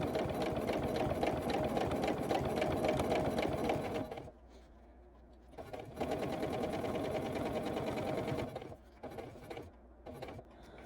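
A sewing machine stitches the borders onto a Christmas tree quilt top, running in steady loud bursts of even mechanical whirring with brief pauses between runs and no talk.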